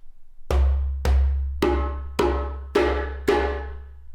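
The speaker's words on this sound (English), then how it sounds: "So now we have our 3 notes, or our djembe scale, if you will" Six djembe strikes at a steady pace, playing bass, tone and slap notes, each ringing out with a sharp attack, loud and close, with no talking.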